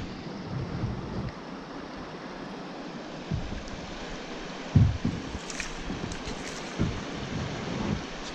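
Class one river rapids rush past a kayak on a rainy river: a continuous churning wash with gusts of wind on the microphone and a few dull thumps and splashes.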